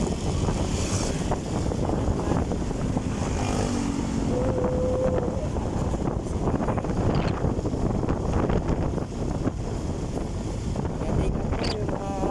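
Heavy wind buffets the microphone in a constant broadband roar at a construction site between Bicutan and C6, with brief faint tones and vehicle-like rumble mixed in underneath.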